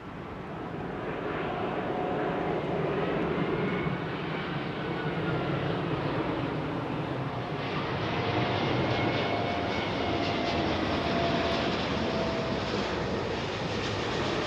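A Singapore Airlines Airbus A380 at London Heathrow gives off a sustained, broad jet-engine roar that holds steady and loud for the whole stretch, with no voices over it.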